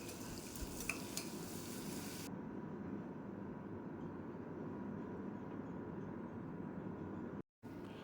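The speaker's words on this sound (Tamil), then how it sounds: "100 கிராம் வெங்காயம் சேர்த்து வதக்கி விட்டுறலாம்" Onions sautéing in ghee and oil in a pan for beef pulao: a faint, steady sizzle with a few stirring scrapes early on, continuing softly and alone with a brief dropout near the end.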